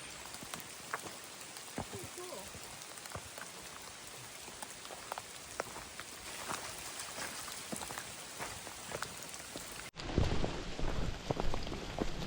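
Light drizzle falls on a hiking trail in the morning, soft steady patter of raindrops with scattered nearby drips, growing louder and closer near the end.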